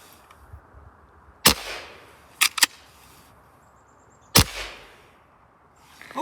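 A Hatsan Vectis air rifle fitted with a Huma regulator fires sharp, close cracks: one alone, a quick pair a second later, then another after a pause, with quiet outdoor background between.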